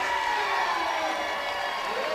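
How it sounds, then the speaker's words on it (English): A rodeo crowd cheers and roars in a steady, dense wash of voices filling an arena, sustained and fairly loud throughout. "And he's got the crowd excited."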